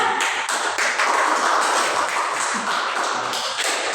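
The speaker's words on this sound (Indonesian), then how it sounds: "Tepuk tangan dong untuk Maria." Classroom applause from a group of students, a steady run of dense, overlapping hand claps that stays loud and close for the whole stretch without any talking.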